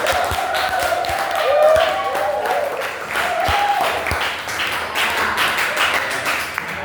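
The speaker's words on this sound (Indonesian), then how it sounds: "Beri tepuk tangan." A school class claps for a classmate who has just solved a maths problem: a short burst of scattered clapping and taps mixed with students' voices and calls, at moderate level.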